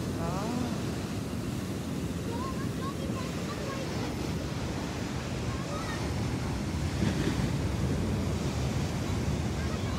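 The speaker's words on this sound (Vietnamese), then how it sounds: "tiếng sóng biển làm nhạc cho mình nghe" Ocean surf rolls onto the sand at Natural Bridge State Beach in Santa Cruz, a steady loud wash of breaking waves, roughened by wind buffeting the microphone.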